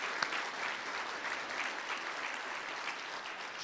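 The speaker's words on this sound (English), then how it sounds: "let's give a round of applause to Cheryl Walsh." Steady applause from a crowd at a State of the City address, dense and even throughout with one sharper clap near the start, no voices rising above it.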